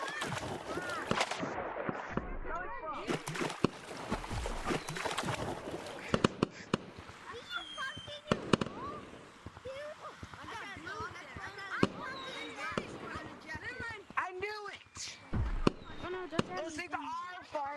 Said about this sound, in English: These things are making fireworks.